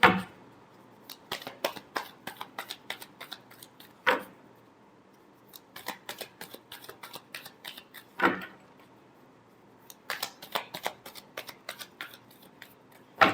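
Tarot cards being shuffled by hand in quick clusters of crisp riffling flicks, separated by short pauses and occasional sharper taps, close up with no speech.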